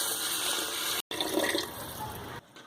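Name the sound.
pouring 2 litres of water into rice and lentils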